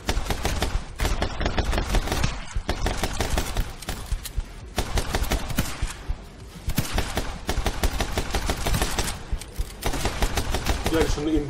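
Rapid gunfire from shooting in the action game My Friend Pedro, loud bursts of close, fast shots in quick clusters with brief pauses, someone talking over the shooting.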